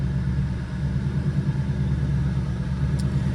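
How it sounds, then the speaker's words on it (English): A car at a dealer auction idling with a suspected slight misfire, a steady low rumbling engine hum close by with a faintly uneven pulse. "Not for sure if we don't have a little bit of a slight misfire."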